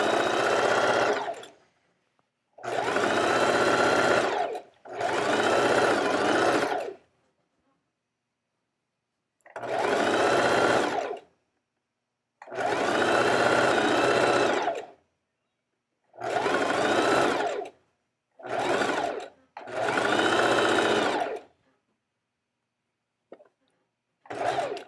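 Sewing machine stitching a garment seam in bursts of steady mechanical whirring, close and loud, each run lasting a few seconds with silent pauses between them and no talking.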